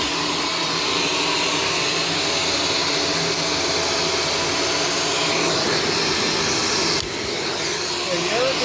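A Shark Stratos vacuum cleaner running over laundry, a loud steady roaring whine held throughout with a brief dip near the end.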